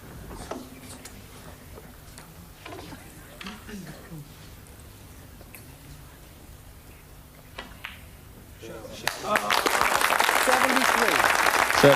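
A snooker crowd bursts into loud, sustained applause after quiet table sounds and faint ball clicks, with a commentator speaking softly before the clapping.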